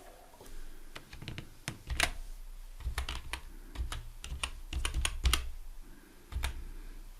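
Someone types on a computer keyboard nearby in quick, irregular bursts of key clicks, with a few louder taps and short pauses between runs.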